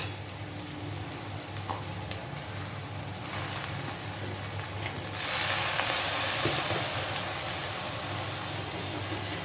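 Mutton fat sizzling in a pan with soya mince, a loud, dense, steady hiss and crackle that swells noticeably partway through and stays strong to the end.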